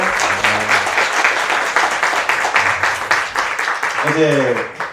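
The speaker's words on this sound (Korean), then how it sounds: "우리 수고하신 목사님 다시 한번 크게 박수할까요?" A seminar congregation applauds the pastor, a dense, steady round of clapping that carries throughout, with a voice speaking over it at the start and again near the end.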